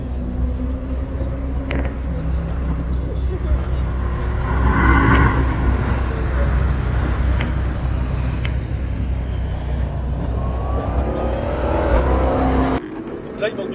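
A sports car accelerates around the Folembray racing circuit, a steady engine drone and road roar heard from inside the car, swelling in the middle, while an instructor talks over it.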